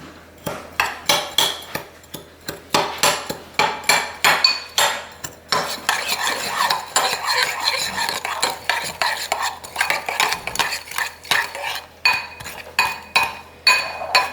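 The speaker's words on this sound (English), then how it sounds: "And then to that add almost 2 tablespoons of the brown sugar. And then mix that together." A utensil briskly stirs brown sugar into liquid in a bowl, giving rapid, repeated clinks and scrapes against the bowl in an uneven rhythm, close and fairly loud with no talking.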